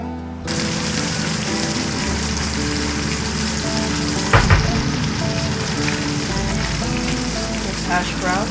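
Hash browns and bacon fry in a hot pan at a campfire cooking spot, giving a steady loud sizzle throughout with a brief sharper crackle midway.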